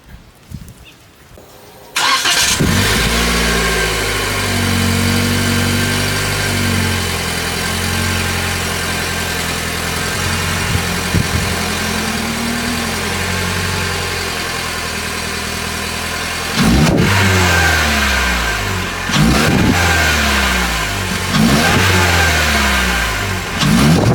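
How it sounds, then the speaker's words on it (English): A 2022 Toyota Corolla hatchback with stock exhaust cranks and starts, settles into a steady idle, then revs up several times in short bursts, close and loud. "we'll start the car up quick so you guys can hear it"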